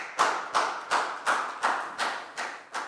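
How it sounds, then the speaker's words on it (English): A pupil is applauded in a classroom with eight slow, evenly spaced claps, each sharp and close with a short decay, almost like one person clapping in time. "Big round of applause for Dan,"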